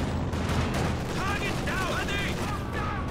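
An artillery barrage in Company of Heroes 2 rumbles as a dense run of booms and blasts, continuous and heavy, while a commentator talks over it.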